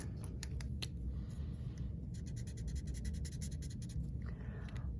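A pen scratches quickly across paper while chemistry notes are written out, close and quiet, in short bursts of strokes over a faint room hum.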